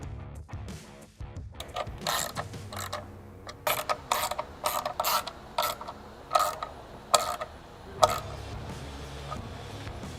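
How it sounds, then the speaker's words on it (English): A ratchet wrench tightens four 13mm nylon lock nuts on a retractable bed step for a 1999-2007 Chevy Silverado, giving bursts of rapid clicking in short repeated runs, fairly close and alone. "then tightening down the four 13mm nylon lock nuts"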